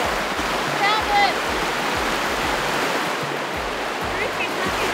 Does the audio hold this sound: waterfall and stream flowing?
yes